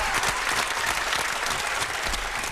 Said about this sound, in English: Torch, keep the applause going, man. This is a standing ovation.